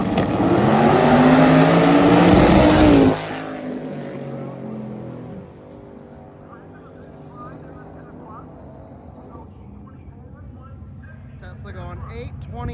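A drag racing car at the Sick Week event roars loudly for about three seconds and then cuts off, leaving a low rumble, crowd noise and people talking.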